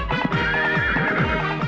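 A horse neighs in a long, loud whinny with rising and falling pitch over a musical backing, heard in a comedy film scene.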